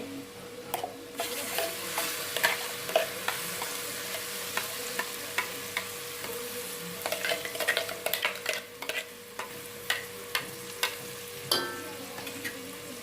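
Ground masala paste for chicken fries in a pan with a soft sizzle under repeated close scraping and stirring, the spoon taps growing busier toward the end.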